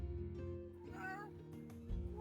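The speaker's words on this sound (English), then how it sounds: "I hear a kitty" An orange cat meows close by, a single drawn-out, wavering cry that rises and falls over a steady low hum of background tone.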